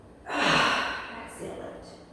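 One deep audible inhale during a Pilates mat exercise, a close breathy rush of air that swells then fades into quieter breathing.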